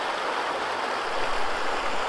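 Deep, fast-flowing river on Dartmoor rushing steadily nearby, a dense continuous roar of water with no voices.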